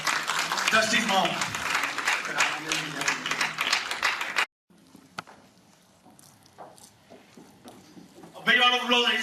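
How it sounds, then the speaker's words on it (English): Audience at an awards ceremony clapping loudly for several seconds, then a sudden drop to quieter room sound with scattered noises before clapping and a voice return near the end. "A big round of applause, ladies and gentlemen."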